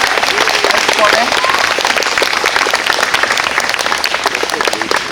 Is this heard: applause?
yes